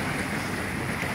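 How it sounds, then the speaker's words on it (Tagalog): Strong sea waves heard from a boat, a steady broadband wash of water and wind noise close to the microphone, with no distinct breaks across the short span. "Narinig mo, ganyan po kalakas yung alon."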